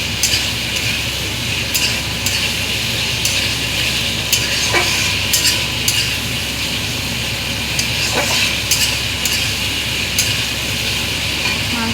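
Chicken pieces for chilli chicken hit a hot pan and sizzle loudly and steadily, with scattered clinks and scrapes of a spoon stirring them throughout.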